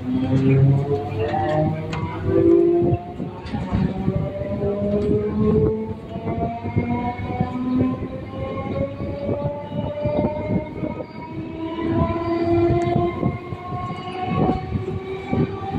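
A local train pulls out of Titagarh station on the Barrackpore to B.B.D. Bagh suburban line. A steady, loud rolling rumble of wheels and carriages runs throughout, with sustained tonal squeals or horn-like tones over it.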